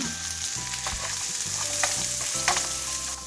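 Diced carrots for special fried rice stir-frying in a hot pan, a steady loud sizzle with repeated scraping strokes of a utensil, no voices.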